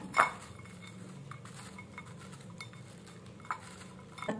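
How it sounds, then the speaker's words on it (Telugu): A spoon stirs Kurkure dahi chaat ingredients in a bowl, with a sharp metallic clink at the start, soft scraping in between, and a couple of lighter clinks later, close and quiet. "ఇప్పుడు వీటిని మిక్స్ చేసుకుందాం"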